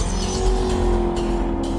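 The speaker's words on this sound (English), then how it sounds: "Good gear change there, didn't hit the rev limiter this time" A car engine roars at high revs on a top-speed run with the tyres pumped to 50 psi, a loud, sustained drone heard from inside the car.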